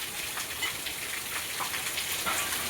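Heavy monsoon rain pours steadily over a flooding housing society road, a dense continuous hiss of drops on wet surfaces close by, with no voices.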